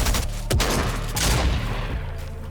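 Auto shotgun blasting in a video game, loud dense booming shots in quick succession filling the whole stretch, close and heavy.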